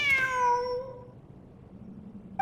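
A cat in a video game lets out a single clear, drawn-out meow near desert ruins, fading after about a second into a low background hum.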